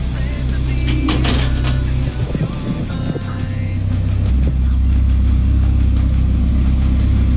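A Toyota car with paddle shift idles at a Toyota car show, its engine giving a loud, steady low rumble close by, with a few knocks and clatters on top.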